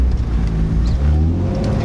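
Loud, close engine roar of a BMW E36 drift car pulling away from a stop sign, a dense low rumble with rising harmonics as it accelerates.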